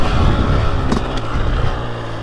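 KTM 300SX two-stroke motocross bike fitted with an FMF Factory Fatty pipe and Powercore 2.1 Titan silencer, roaring loud and close as the throttle rolls on and revs out, with no talking.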